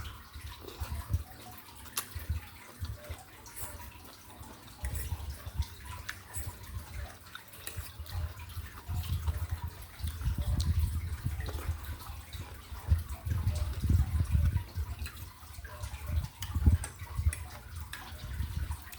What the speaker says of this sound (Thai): พี่น้องได้ยินเสียงน้ำตกบ่พี่น้องคะ